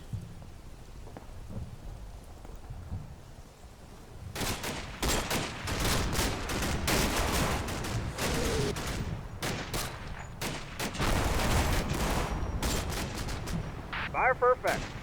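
Machine gun fire rattles in the Combat Mission Battle for Normandy wargame, a dense run of sharp bursts starting a few seconds in and continuing steadily over a low rumble, with brief higher-pitched chirps near the end.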